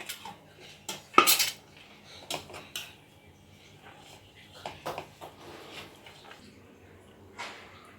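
Metal cutlery clinks and scrapes against a plate as okra egg rice is served, short scattered clatters and taps at close range in a quiet kitchen.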